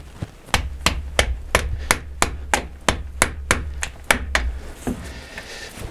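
A hammer taps on a metal socket about a dozen times in an even rhythm, sharp close-up strikes, then stops.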